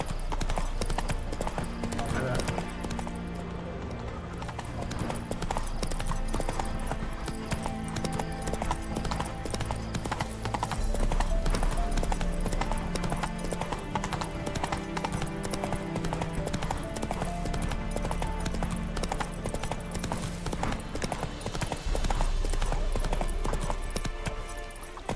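Roach the horse galloping in The Witcher 3, hooves pounding in a fast continuous rhythm over a loud, dense game soundscape with music, with someone talking over it at times.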